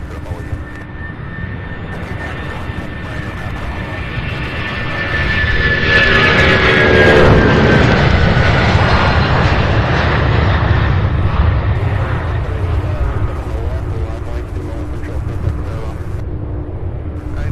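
A heavy MD-11 jet at Louisville airport swells from a rumble into a loud, broad roar that peaks mid-clip and slowly fades as it passes, with a whining engine tone sweeping downward; voices are faintly present underneath.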